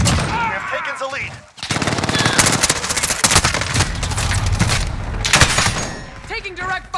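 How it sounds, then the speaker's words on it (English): Rapid automatic gunfire rattles in long bursts during a Call of Duty: Modern Warfare team deathmatch, loud and close, with brief pauses and shouted voice lines between volleys. "Taking direct fire!"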